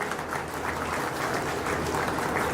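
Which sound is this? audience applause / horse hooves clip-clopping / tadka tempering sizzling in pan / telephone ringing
audience applause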